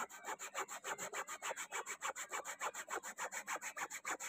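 An ordinary brush scrubs fungus stain remover into a fungus-stained cloth in quick, even back-and-forth strokes, about five per second, soft and close with no talking.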